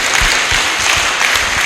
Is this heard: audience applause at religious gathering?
yes